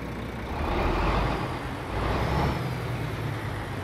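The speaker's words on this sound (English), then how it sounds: "You can almost feel the super heavy flywheel. Listen. Like it's really slow to rev up. and takes ages to rev down." A Volvo truck engine with a very heavy flywheel revs slowly up and drifts back down in a steady low rumble, heard from inside the cab with no talking.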